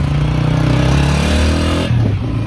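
A bike engine runs loud and close, a steady throbbing idle with a slight rise in revs before it settles into a lower note near the end.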